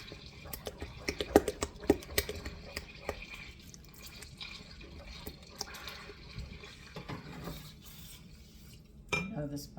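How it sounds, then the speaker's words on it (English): Sourdough English muffin mixture with hot melting butter is stirred in a bowl, giving faint scraping and clinking taps with soft wet movement, quiet and close. "See, I'm stirring it, trying to let it finish melting the butter that's in there."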